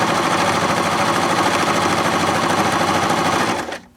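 A Baby Lock Zest sewing machine runs a close, dense satin stitch at short stitch length, a steady loud rapid mechanical whir and needle patter that holds evenly for several seconds, then stops abruptly.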